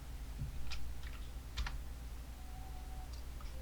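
Several quiet keystrokes on a computer keyboard while working in After Effects, a few scattered clicks including a small burst, over a low steady room hum with no voices.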